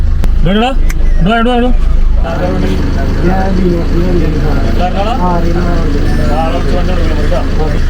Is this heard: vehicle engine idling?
yes